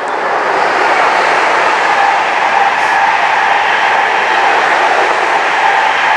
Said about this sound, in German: Ein Schnellzug, das ging schnell.